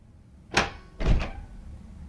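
An apartment door opens with a sharp click of the latch followed by a heavier thunk and rattle, close by and fairly quiet, with no talking.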